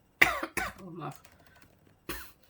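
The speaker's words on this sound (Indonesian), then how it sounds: "Saya agak batuk." Three sharp coughs close to the mic, two in quick succession, then a pause and a third, with a brief murmur between.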